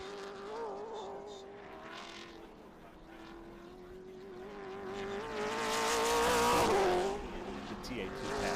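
TA2 race cars pass at Road Atlanta during an SVRA event, their engines rising from a steady distant drone to a louder surge as they go by, then fading, with faint talk in the background.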